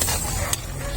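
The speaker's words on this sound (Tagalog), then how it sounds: "Haluin natin ng kaunti." A pot of simmering coconut milk with cassava leaf shoots, seasoned with salt and pepper, is stirred, giving a close, brief scraping and bubbling hiss with one sharp clink midway.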